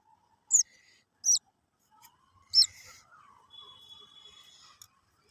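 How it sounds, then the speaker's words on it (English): Rescued baby birds call for food at night: three sharp, high chirps in quick succession, then a thin sustained squeak, close and alone in a quiet room. "babies are crying for food"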